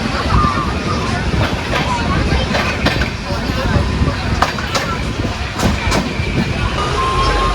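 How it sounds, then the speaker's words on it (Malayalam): A loud, continuous train rumble with faint squeals as the Mayiladuthurai–Coimbatore Jan Shatabdi express slows into Peelamedu railway station, while voices murmur in the background. "നമ്മളെ പിലമേട് റെയിൽവേ സ്റ്റേഷനിൽ കൊണ്ടുവന്ന് ചവിട്ടി കേട്ടോ"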